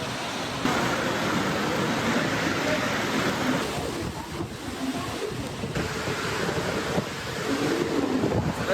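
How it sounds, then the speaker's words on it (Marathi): Heavy rain pours down in a dense, continuous hiss, with gusts of wind buffeting the microphone and faint voices underneath. "जास्त जोरात पाऊस चालू झाला"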